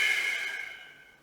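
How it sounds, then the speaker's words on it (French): A breath pushed out through the mouth during a Pilates exercise, heard as a single close, airy hiss that fades over about a second. "Je souffle par la bouche."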